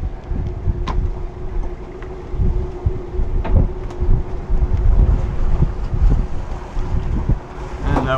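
Strong wind buffets an anchored sailboat, with a loud continuous roar and rumble, gusty surges and occasional knocks and creaks of rigging; a steady mechanical hum runs underneath.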